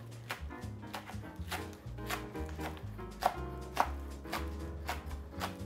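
Knife chopping green onions on a cutting board for a green goddess salad, a steady run of crisp close taps repeating roughly every half second, with two sharper louder strikes midway and no talk.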